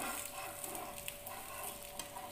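Dosa roasting on a hot pan, a steady soft sizzle with faint crackles and occasional light ticks, close and continuous with no talk.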